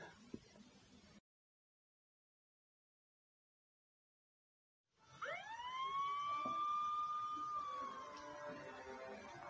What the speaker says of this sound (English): Every time I hear those sirens, I have fear of getting arrested.